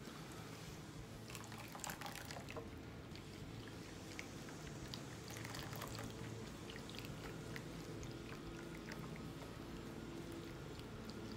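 Warm chicken broth poured slowly into a pot while being stirred, for tortellini soup; a steady, soft liquid wash runs throughout, with faint clinks and small splashes scattered over it.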